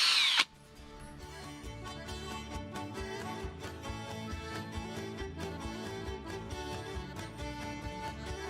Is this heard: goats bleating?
no